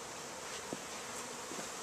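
Honey bees buzz steadily from a newly arrived package, a low continuous insect drone with a couple of brief louder swells, close and alone.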